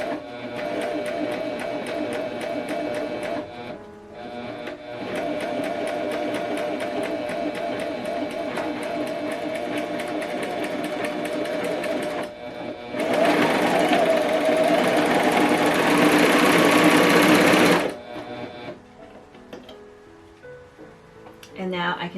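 A Pfaff Coverlock 4.0 sewing machine runs in steady rapid stitching bursts, a close mechanical whir with a louder, brighter spell near the end, separated by short pauses.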